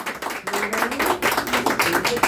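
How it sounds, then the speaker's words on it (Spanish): Applause from a birthday party audience at a youth mariachi performance, a dense steady wash of clapping lasting the whole stretch, with faint music tones and voices mixed underneath. "aplauso que se escuche"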